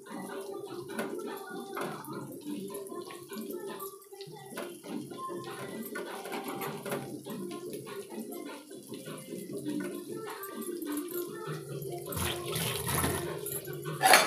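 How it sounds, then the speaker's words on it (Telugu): Onions fry without oil in a pan over a high flame, making a continuous rushing sizzle close up with a few clinks of stirring, and a voice speaks faintly underneath. "ఇప్పుడైతే ఇది ఫ్రై చేసుకుంటున్నాను నేను."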